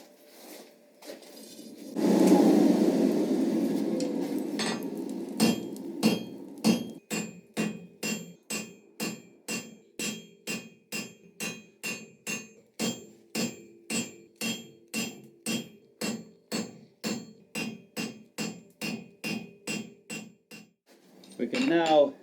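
A hammer forges hot metal for a Christmas wreath leaf, opening with a harsh grinding rush, then steady ringing hammer blows on the anvil in a regular rhythm of about twenty strikes, close and loud.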